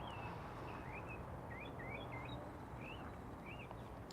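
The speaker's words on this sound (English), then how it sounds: "I'm enjoying listening to the birds" Small birds chirp and trill in short scattered phrases in a winter garden over a steady outdoor hiss, moderately distant and fairly faint.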